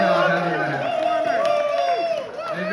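A comedy club crowd cheers and whoops for the performers, loud and close, with some clapping underneath and several voices calling out and talking amid the noise.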